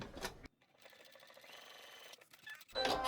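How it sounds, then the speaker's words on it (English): A sewing machine stitches down a credit card slot on a scrap-fabric wallet, giving a steady, fast mechanical whir of close needle strokes for about two seconds. Quiet handling noises sit on either side. "sew down that credit card slot there"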